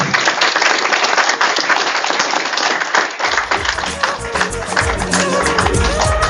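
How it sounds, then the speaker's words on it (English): Applause for quiz winners at a college Energy Conservation Day event, a dense burst of clapping from an audience that continues steadily with a louder, fuller texture in the second half. "Give them a round of applause."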